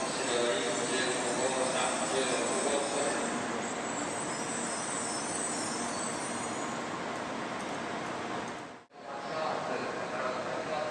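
The Hikari 591 Shinkansen at Hiroshima Station produces a steady, loud broadband rush and rumble that stays constant for several seconds, briefly drops out near the end, then resumes.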